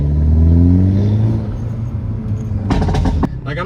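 A Hyundai Elantra N with a modified exhaust and cherry tune revs loudly up close, its drone rising and falling before a rapid burst of sharp crackling pops near the end.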